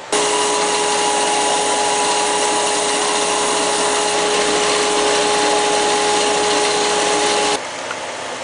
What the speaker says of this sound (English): Now we'll drill with the T-bit the rest of the distance in there